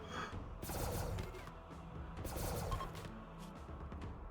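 Rapid bursts of weapon fire in the colony-building game Rimworld, dense and continuous across the whole stretch with crashing impacts layered in, loud and busy with no talking.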